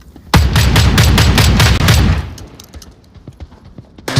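Rapid automatic gunfire at a video game shooting range rattles loudly and close in a dense burst of repeated shots lasting nearly two seconds, then fades to a low echoing tail before one more shot.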